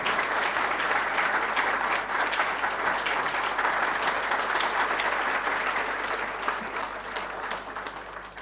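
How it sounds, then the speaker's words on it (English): Steady, dense applause from a large book launch audience, continuing evenly throughout and tapering slightly toward the end. "May we have a round of applause for the dignitaries"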